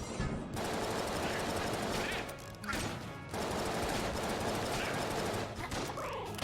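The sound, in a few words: infinite ammo gun firing, video game Enter the Gungeon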